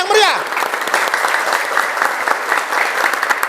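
A church congregation breaks into loud sustained clapping and cheering, with a brief rising whoop at the start and voices shouting within the dense, continuous applause.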